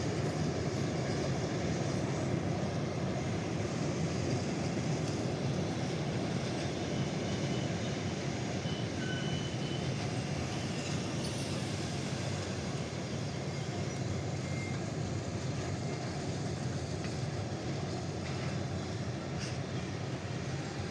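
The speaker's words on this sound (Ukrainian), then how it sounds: "Завжди цікаво спостерігати, як прибуває потяг." A steady, loud rumble of the Kyiv–Truskavets passenger train rolling into Truskavets station, with continuous broadband rail noise and faint squeals throughout, no voices.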